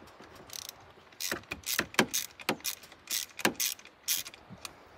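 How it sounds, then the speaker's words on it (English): A ratchet fitted with a 10 mm socket clicks rapidly as it loosens nuts on a glow plug controller unit, a close, steady run of metallic ratcheting bursts. "Let's get the 10 millimeter socket on there."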